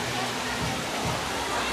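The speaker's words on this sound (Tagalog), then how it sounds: "Lakas ng source ng tubig. Galing sa taas." Strong spring water pours down from higher ground into a pool, making a steady, dense rushing wash that stays loud and close the whole time with no clear breaks.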